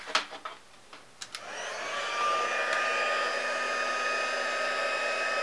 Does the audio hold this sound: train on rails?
no